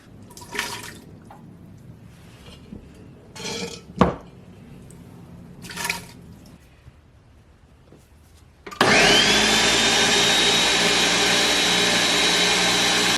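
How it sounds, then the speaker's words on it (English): A blender purees cooled aloo gobi soup. Several seconds of light clinks and drips come first, then the motor starts abruptly into a loud, steady, close whir that runs to the end. "that soup has definitely cooled down, and we're ready to blend it"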